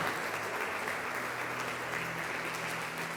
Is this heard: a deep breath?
no